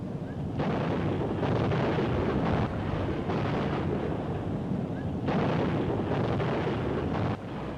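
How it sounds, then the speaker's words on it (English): An anti-aircraft gun crew fires artillery in 1943 wartime Egypt footage, heard as a continuous, rumbling roar of gunfire and blasts with surging intensity on an old film soundtrack. "A gun crew makes a direct hit."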